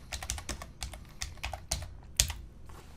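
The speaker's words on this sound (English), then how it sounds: "in the search plugins, just type Menu Icons." Keys on a computer keyboard tapped in quick, uneven bursts while entering a WordPress plugin search, each stroke close and crisp, with no voices.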